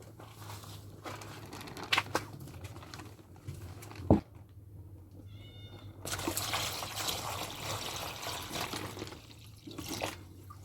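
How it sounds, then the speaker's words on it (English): Yam being washed by hand in a pot of clean water during outdoor village cooking, with soft trickles, drips and sloshing splashes, one sharper splash midway, close and fairly quiet over a steady low hum. "So we wash the yam again."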